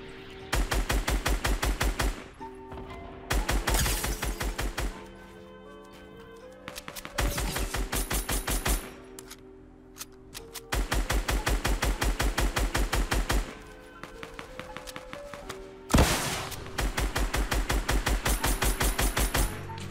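Video game gunfire in a solo battle royale match, loud sustained bursts of rapid automatic shots in repeated volleys separated by brief pauses.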